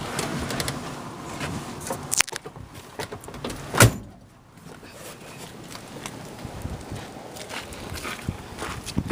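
Footsteps circle a 1978 Ford F150 pickup in unrestored condition with the engine shut off, faint irregular steps over quiet outdoor background, a sharp metallic knock or click near the middle.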